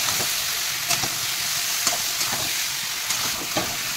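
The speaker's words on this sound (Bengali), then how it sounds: "কাঁচা লঙ্কা পেস্ট দেবো আর চীনাবাদামটা দিয়ে একটুখানি ভেজে নেব।" Raw peanuts frying with green chilli paste in a pan give a continuous bright sizzling hiss, with a few soft stirring knocks spread across it.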